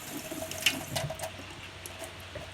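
Tap water runs from a faucet over broccoli in a kitchen sink, a close, soft splashing stream with a few sharper spatters as it hits the florets.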